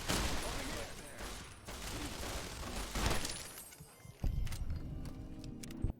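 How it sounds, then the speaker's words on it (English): Double-barrel shotgun fire in the video game Fallout New Vegas: several loud, booming blasts in quick succession with sharp attacks and decaying tails, amid game action. "So Kachino hands me a double barrel, and we get to work"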